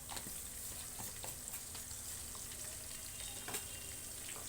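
Onions frying in a pan after turmeric is added, giving a steady low sizzle with soft scraping stirs running throughout, fairly quiet and close.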